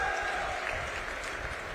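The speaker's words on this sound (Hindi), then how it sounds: "सुरेश जी के लिए ताली बजाओ जोर से" Crowd clapping at a political rally in Jagadhri, Yamunanagar, Haryana, a dense steady wash of applause for a senior leader, loud and continuous throughout.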